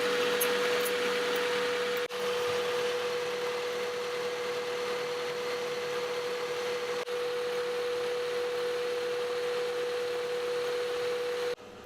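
A Honda Civic engine idles during a 3M fuel system cleaning, a steady droning hum carrying a constant thin whine, close and unbroken, with only a couple of faint knocks and no talking.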